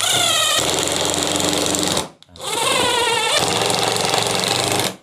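Drill press boring bolt holes into an aluminium rail base for a drill press stand, a loud steady whining, grinding drone in two long passes with a brief pause between them.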